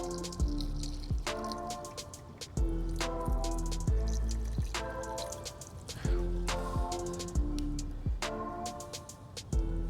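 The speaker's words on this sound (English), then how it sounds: "See that water draining down?" Water draining and dripping through a partly clogged drain plug on a 2008 Mercedes S550, a close series of distinct wet drips and splats falling at an uneven rhythm over a faint trickling background, with no talking.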